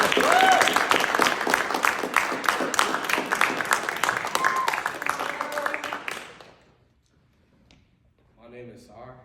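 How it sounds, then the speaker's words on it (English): An audience claps at a school ceremony for young men, dense applause with cheering voices that holds for about six seconds and then fades to near silence before a voice starts speaking. "All right, clap it up."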